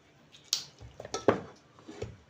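Kitchen knife quartering fresh tomatoes on a board, the green cores already removed: a few soft, close taps and squishy slices with light clinks, irregular and quiet, no talking.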